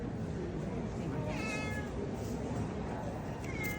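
A Siamese cat meows a couple of times, drawn-out and plaintive, over a constant background hiss of room noise.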